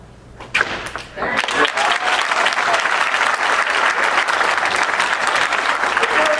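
Audience applause for Becky after a whip-cracking demonstration at a furniture fair conference, starting with a few thuds and quickly swelling into loud, steady clapping from a large crowd, with voices mixed in.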